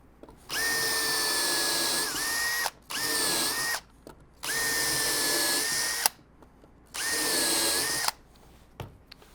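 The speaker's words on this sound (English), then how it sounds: "Make sure when you're driving your screws that they get well below the surface of your rails." A power drill drives screws into a wooden dado routing jig in four loud close whirring bursts, each a steady high-pitched motor whine that stops sharply between runs.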